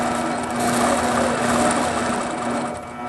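Quilting sewing machine stitching through a quilt at a very rapid stitch setting, a steady fast whirring hum with a constant tone, moderately loud and close, with no talking.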